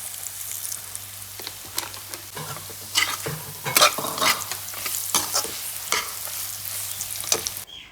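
Dry spices fry in a pan while a spoon stirs them for a sweet tamarind pickle, making close, loud sizzling with repeated sharp scraping strokes and crackles in an uneven rhythm, no voices.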